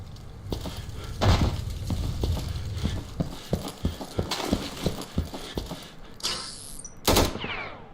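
Gunfire in the video game Knights of Al-Aqsa Mosque: a run of sharp rapid shots in a loose rhythm, with a couple of louder bursts near the end, heard without talk.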